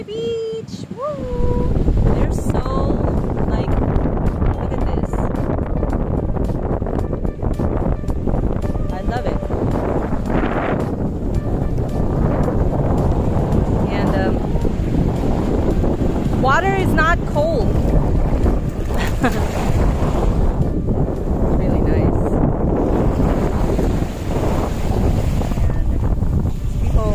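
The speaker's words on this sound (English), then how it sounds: "It's just super windy, but really, really good." Strong wind buffets the microphone at Lanikai Beach, Hawaii, a loud, continuous rumbling roar that fills the whole stretch, with voices talking now and then beneath the gusts.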